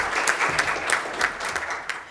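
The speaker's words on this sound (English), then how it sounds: "I think he deserves another round of applause" Audience applause at a tourism report launch in Namibia, a steady, fairly loud wash of many hands clapping together, with brighter individual claps standing out throughout.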